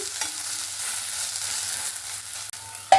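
Breakfast snack frying in a pan, a steady close sizzle with a soft scrape and tap as it is flipped near the end, no talking.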